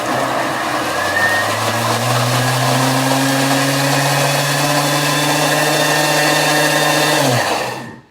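Food processor blending a carrot-top sauce at top speed 10, a loud steady whirring motor that runs without a break for about seven seconds and then winds down to a stop.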